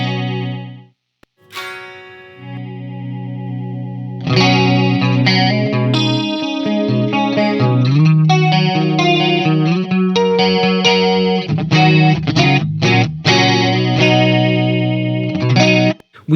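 Electric guitar played through the chorus mode of an Old Blood Noise Endeavors Excess V2 pedal, a few plucked notes and then sustained shimmering, wavering chords, loud and close with no talking.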